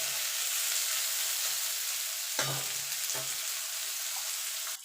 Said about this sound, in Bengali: দিয়ে পেঁয়াজটা একটু ভাজা ভাজা করে নেব।